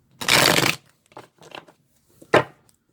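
Tarot cards shuffled in the hands: a long loud riffling burst, then a few softer card slides and taps, and one more sharp riffle near the end.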